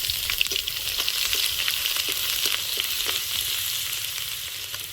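Five-spice seeds and chopped garlic frying in hot oil, a loud continuous sizzle with dense crackling pops throughout, close and uninterrupted.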